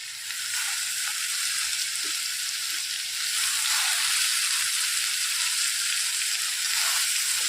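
Sprouted moth beans (matki) are tipped into a hot pan and mixed, giving a steady, close frying sizzle with a faint stirring scrape and no voices.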